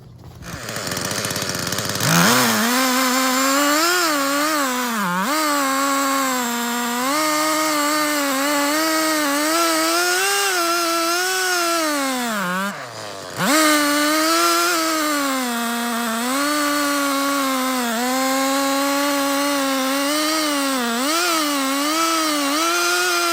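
A Stihl chainsaw on an Alaskan chainsaw mill makes its first cut through a log, snarling loud and continuous for over twenty seconds with pitch wavering under load, briefly dropping once before resuming.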